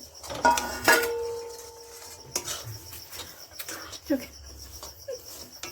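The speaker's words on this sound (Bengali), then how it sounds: "এইরকম করে নেড়ে নেড়ে একদম মিক্সড করে দিতে হবে" A sticky sesame mixture is stirred in a pan for sweet til naru, giving scattered close scrapes and metallic clinks at an uneven pace, with a brief tonal coo-like sound near the beginning.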